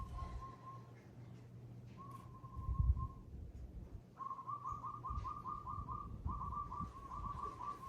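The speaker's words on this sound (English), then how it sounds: "there's always some birds that start chirping" Birds chirp outside through open windows, faint repeated whistled calls in short bursts and quick trilling runs, distant and soft over a low room hum.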